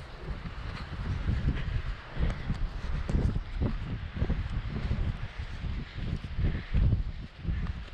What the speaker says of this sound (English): Very windy, super windy.